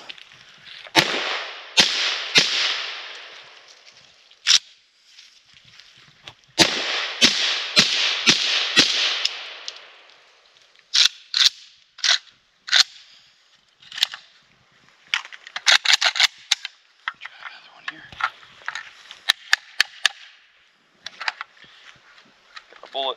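A Polish PAC Pioneer AKM Sporter rifle fires at an outdoor range in sharp, loud cracks, first spaced single shots, then quick strings and scattered follow-ups, with someone talking between volleys.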